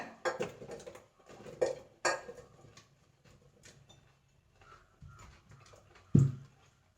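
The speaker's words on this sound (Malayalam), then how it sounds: "അത് ഞാനിവിടെ ഈ കുക്കറിൽ ഇട്ട് കൊടുക്കുകയാണ്" Clattering thuds of chopped papaya pieces dropping into a metal pressure cooker, several bursts then quiet, ending with a heavy clunk.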